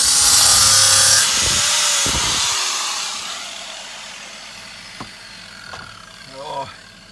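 In a shed, a power tool cutting metal whines loudly at first, then winds down and fades, followed by a few light clanks and knocks, with someone speaking briefly.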